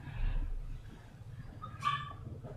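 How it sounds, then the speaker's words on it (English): A black puppy cries with a brief high whimpering yelp, faint and somewhat distant, over a low background hum in a quiet home. "Why is there's a puppy crying?"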